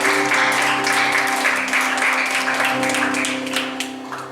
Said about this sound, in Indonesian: Tepuk tangan saudara yang panggil.